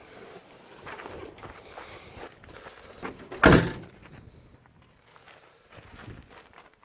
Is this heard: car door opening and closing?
yes